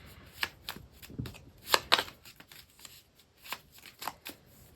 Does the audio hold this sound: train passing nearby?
no